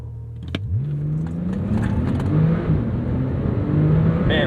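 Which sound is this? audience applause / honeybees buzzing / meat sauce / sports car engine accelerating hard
sports car engine accelerating hard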